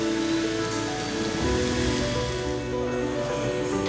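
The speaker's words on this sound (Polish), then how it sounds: "Po zamontowaniu kabin na pojazdach przechodzą one kontrolę szczelności w komorze deszczowej." Artificial rain sprays steadily onto vehicle cabins inside a leak-test rain chamber at a cab factory, a dense, loud, continuous hiss of water drumming on surfaces with no pauses.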